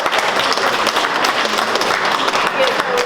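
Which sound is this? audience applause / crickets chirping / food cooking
audience applause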